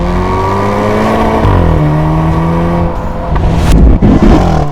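A Hyundai N car in Sport or N mode accelerates at full throttle, engine note rising loud and close before a sharp upshift bang cuts through, then the revs climb again.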